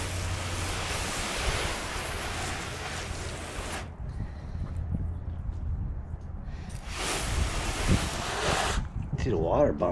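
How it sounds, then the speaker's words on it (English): Broadband rushing spray of water from a hose onto a car coated with ceramic spray, steady for several seconds, pausing briefly, then resuming close and loud. "See the water bouncing off"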